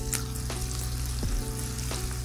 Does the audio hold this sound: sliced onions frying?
yes